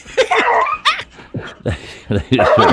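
A basset hound barks and yips in quick, uneven bursts close by, mixed with laughter and voices talking over it.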